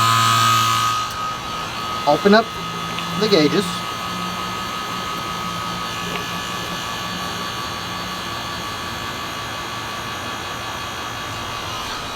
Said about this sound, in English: The next step is turn the vacuum pump again